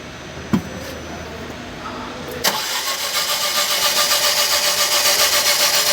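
A Tata Tiago petrol car with a white smoke problem cranks briefly, then its engine catches and settles into a steady, close, fairly loud idle with a faint rhythmic pulse.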